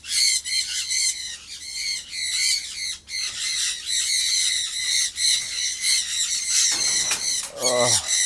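Sun conures in an aviary let out loud, shrill, continuous squawks and screeches close by, with brief voices breaking in near the end.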